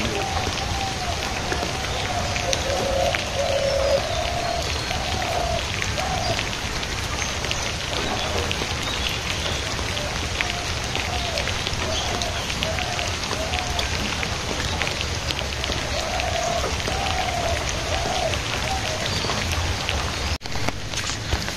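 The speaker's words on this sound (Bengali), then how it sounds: "গুড়ি গুড়ি বৃষ্টি পড়তেছে" A light drizzle falls for a long stretch, an unbroken broadband patter with no distinct rhythm, while faint voices seem to murmur now and then under the rain.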